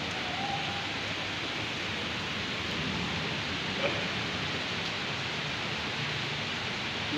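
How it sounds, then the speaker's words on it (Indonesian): Steady, even hiss of light rain falling continuously, a soft wash of drizzle with no distinct drops standing out. "Ini karena cuaca dan kondisi saat ini lagi gerimis"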